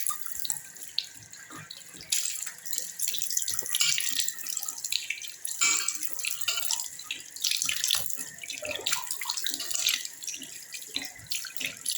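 A tap runs hard and close into a sink being rinsed clean after scrubbing with fermented batter. The water splashes continuously with uneven gushing and spattering throughout, and no voices are heard.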